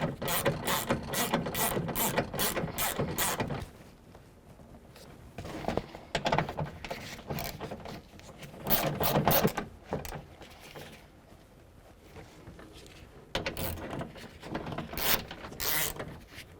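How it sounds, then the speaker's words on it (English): Ratchet with a 10mm socket snugging bolts on the front window regulator of a 2005–2010 Jeep Grand Cherokee, several close, loud bursts of rapid clicking separated by short pauses, with no talking. "So now with the same 10mm socket, we're going to snug them all up."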